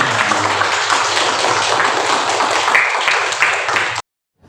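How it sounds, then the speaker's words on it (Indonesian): Classroom applause from a class of students, a dense continuous wash of clapping that holds steady for about four seconds and then cuts off abruptly. "Ya, tepuk tangan untuk kita."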